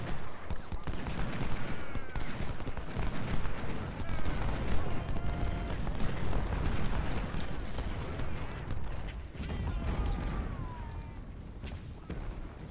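Continuous crackling musket fusillades and scattered shots from an American Civil War battle in the strategy game Ultimate General: Civil War, a dense, moderately quiet battle din throughout.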